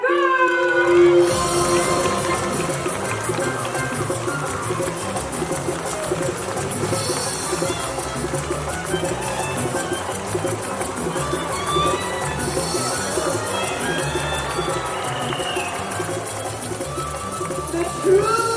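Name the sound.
audience cheering at bird park show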